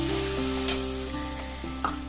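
Potol, pointed gourd, is stirred in a pan with mustard-poppy paste and water, giving a soft close sizzle with a few brief spoon scrapes and clinks against the pan, no voices.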